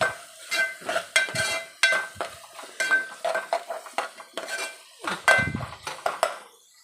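Ginger paste frying in a pan for a Telangana-style chicken curry, with repeated scraping and clinking spoon strokes against the metal over a soft sizzle, close and irregular.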